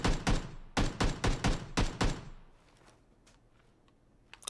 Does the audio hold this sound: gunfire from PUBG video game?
yes